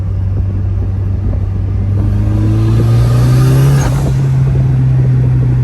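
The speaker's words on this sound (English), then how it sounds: "The ball bearing turbo sounds so sick." Loud engine rumble from a Mazda Miata rises as a GT2860 dual ball bearing turbo spools up, a climbing whine and whoosh building under throttle over a few seconds.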